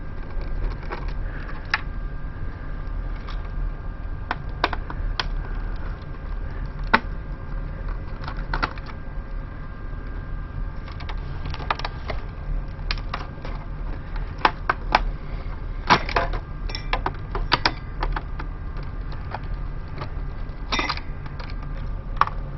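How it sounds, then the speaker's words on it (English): Screws being removed from an original Xbox motherboard, scattered light clicks and small metallic ticks over a low steady hum, faint and irregular throughout. "we'll need to take all these screws"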